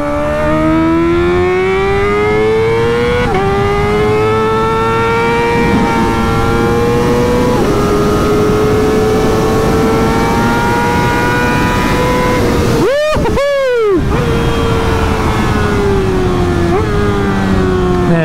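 A Kawasaki ZX-4RR race motorcycle built by Graves Motorsports screams at high revs while being ridden, its loud engine note rising and falling through gear changes, with a sharp dip and blip near the end.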